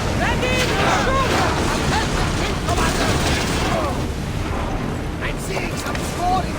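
Ship cannons firing in the Assassin's Creed Odyssey video game, dense rumbling booms and crashing blasts filling the whole stretch, loud and continuous, with crew voices shouting over them.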